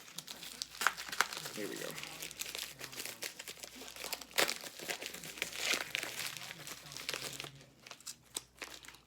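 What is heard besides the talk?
cutting open a sports card package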